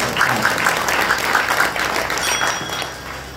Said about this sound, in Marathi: जोरात टाळी वाजवून मनापासून